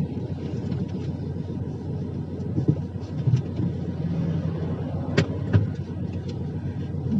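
A car being driven with a woman at the wheel, a steady engine drone and road rumble close by with a few brief bumps, no talk.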